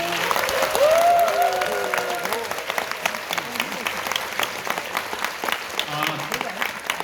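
An audience at a lecture applauds to welcome the author back to the stage, a strong burst of clapping that thins into scattered claps, with some voices heard over it.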